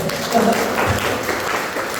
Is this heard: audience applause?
yes